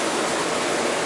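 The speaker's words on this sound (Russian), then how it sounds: "как вода отсюда уходит" Water drains steadily through rock crevices at the Akhki-T1ai tourist complex, a continuous, close, even rushing wash with no pauses.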